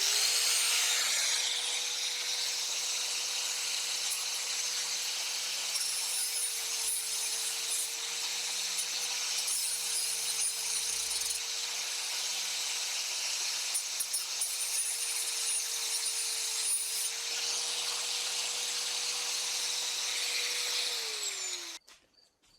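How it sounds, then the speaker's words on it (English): Angle grinder fitted with a flap sanding disc working the cut ends of wood boards, a steady, loud whining hum that holds for about twenty seconds before spinning down at the end. "I got the same grinder, but I put a flap disc on"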